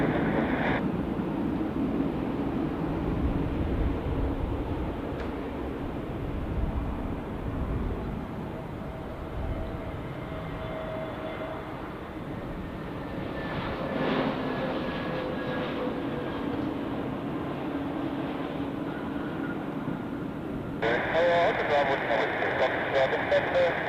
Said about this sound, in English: Edelweiss flight to Pristina now on the runway